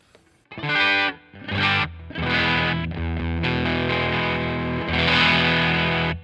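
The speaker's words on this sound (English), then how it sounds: "You can hear the bass notes breaking up more." Electric guitar chords on the bridge pickup played through a Catalinbread Karma Suture fuzz pedal, thick and distorted, with low notes breaking up; loud and continuous with brief gaps between strums.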